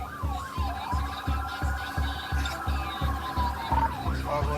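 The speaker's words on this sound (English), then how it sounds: "When you hear sirens approaching" An emergency vehicle siren wails up and down, loud and near, over a steady series of low, rhythmic thumps that keep pace beneath it throughout.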